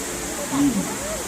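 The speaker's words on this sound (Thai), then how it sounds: "เสียงน้ำตกนะครับ" An outdoor waterfall at the Golden Mount temple fair at Wat Saket in Bangkok gives a steady, even rush of falling water, mixed with a busy crowd and a voice speaking nearby.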